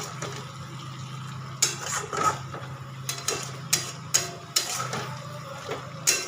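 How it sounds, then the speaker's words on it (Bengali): Boiled potato pieces with spices are stirred in a pan, a utensil scraping and clinking against the metal in several sharp knocks over a low steady hum. "সেদ্ধ করা আলুগুলো দিয়ে আবার একটু ভালো করে নাড়াচাড়া করে নেব।"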